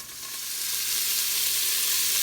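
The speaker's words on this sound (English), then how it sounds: "I'm going to put the celery and the onions in there and saute them" Celery and onions sauté in a Cosori pressure cooker, a steady, close hiss of frying that swells slightly and then holds even, with no talking.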